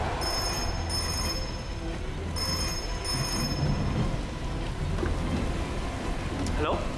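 A telephone rings in repeated bursts through a heavy rainstorm, the bright double rings standing out over a constant loud hiss of rain.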